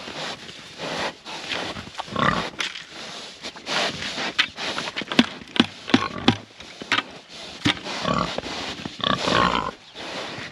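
Pigs on a farm grunt and scrape around their feed in a barn stall, a busy run of close, overlapping snorts and scuffles lasting the whole stretch without pause.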